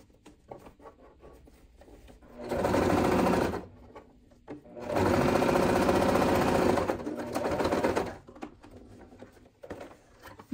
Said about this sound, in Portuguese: Agora eu vou vir nesse daqui e vou costurar aqui dos dois lados também.